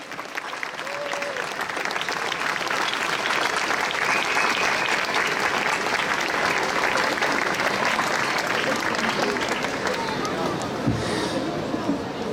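Sustained crowd applause at an outdoor march for life in Ljubljana, dense and steady for over ten seconds with some crowd murmur beneath.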